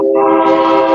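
A passing train sounds its horn in one loud, steady, sustained blast, close and unbroken with no voices over it.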